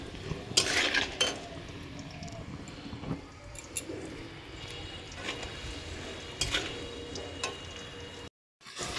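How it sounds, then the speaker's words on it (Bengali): Onions being fried in a pan after potatoes for a Sunday chicken curry, with soft sizzling under intermittent clinks and scrapes of a spoon stirring against the pan. "এই যে মাংসের পেঁয়াজটাও দিয়ে দিয়েছি ভাজা হতে, আলুটা তুলে পেঁয়াজটা দিয়ে দিলাম।"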